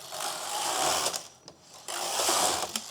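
The carriage of a knitting machine makes passes across the bed, producing a close, steady mechanical whirring and clattering rush that breaks off briefly in the middle and then starts again, with no talk.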